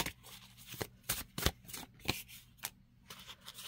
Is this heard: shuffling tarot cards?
yes